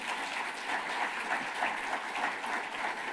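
Steady applause from a room of attendees at a Los Angeles civic honoring event, an even, moderately distant roll of many hands clapping throughout without letup.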